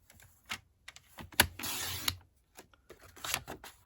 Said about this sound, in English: what I'm going to do is I'm going to cut this in half.